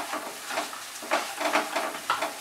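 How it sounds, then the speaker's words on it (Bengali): Spices with garam masala sautéed in a pan for a dhaba-style chicken bharta, a close sizzle broken by repeated scraping stir strokes. "ভালো করে মশলাটাকে কষাবো।"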